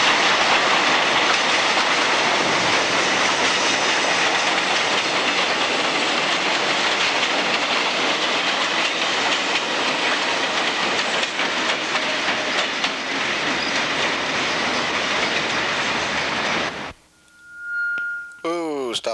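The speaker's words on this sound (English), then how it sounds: "this little old push-pull bud train coming up in Lynn, Massachusetts to the station here" A push-pull Budd train rolls into the station at Lynn, Massachusetts with a loud, steady rumble and rattle of wheels on rail that continues for a long stretch. It stops abruptly near the end, followed by a brief high squeal.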